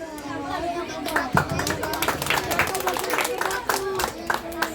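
Crowd at an 18th birthday debut celebration clapping for the debutante, a lively sustained round of many hands with scattered chatter and children's voices mixed in.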